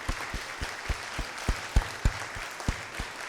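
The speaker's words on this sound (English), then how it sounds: "So let's give her another round of applause." Scattered audience clapping at a talk, a few distinct claps rather than full applause, spaced irregularly and moderately near, with no voices over it.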